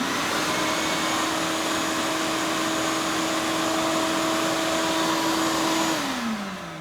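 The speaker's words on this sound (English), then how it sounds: "So I'd like to plug in a Shop-Vac. This is a workshop vac." A Shop-Vac workshop vacuum powered from a Ryobi 40-volt 1800-watt power station drones loudly and steadily with a constant whine, then begins spinning down near the end.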